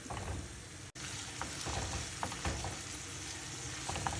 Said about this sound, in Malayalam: ബ്രോക്കോളിയിലെ വെള്ളമൊക്കെ വറ്റി നല്ലോണം എണ്ണ തെളിഞ്ഞു വന്നിട്ടുണ്ട്